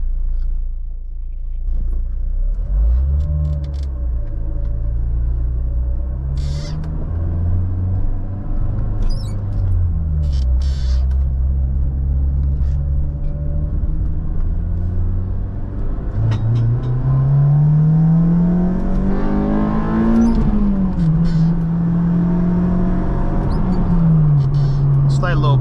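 Car with a new clutch driving at night and accelerating toward 8,000 rpm, the engine note rising and falling in loud, close sweeps throughout while someone talks over it.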